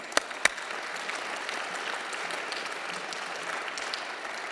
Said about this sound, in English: Let's give a big round of applause for the Ushahidi blog.